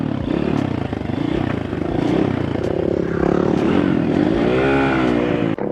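A pitbike motorcycle engine is ridden nearby. It revs up and down in a loud, buzzy drone, rising and falling in pitch with a few sharp clatters.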